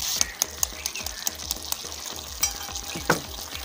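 Eggs fry in a pan with soft potato masala, a loud steady sizzle close up, punctuated by regular scraping stirs.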